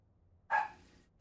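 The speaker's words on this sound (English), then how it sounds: "Dogs are playing in the other room." Dogs playing in another room let out a single short bark, faint and muffled by distance, with near-silence around it.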